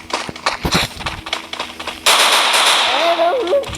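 Gunfire in a mobile shooter game: a burst of sharp shots with a sustained noisy stretch of firing in the second half, plus a brief electronic tone near the end.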